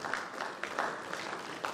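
An audience claps in a dense, moderately distant patter of many hands at a formal event, steady and fairly quiet throughout with no voices heard.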